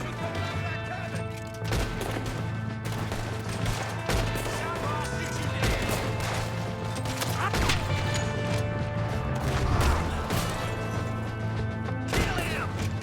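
Gunfire in Red Dead Redemption 2 during a Wild West shootout at a cabin and tower: repeated sharp shots and crashes over a steady droning background, with a voice speaking at moments.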